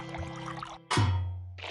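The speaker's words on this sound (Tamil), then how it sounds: "சரி, இப்ப முதல்ல தண்ணிய போடணும்." Cartoon water poured into a bowl to make bread dough: a short, bright splashing gush that drops into a low gurgling tone after faint background sounds, then trails off, close and clear with no voice.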